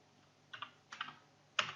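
Typing on a computer keyboard while entering a spreadsheet formula, three short bursts of soft key clicks separated by brief pauses, close and faint in a quiet room.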